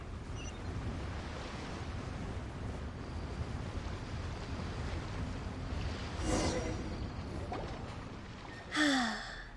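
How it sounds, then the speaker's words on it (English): Soft, low wash of ocean waves at a harbor port in the video game Genshin Impact, faint and steady with gentle surges, plus a brief sigh-like breath near the end. "The sound of the waves in this familiar port."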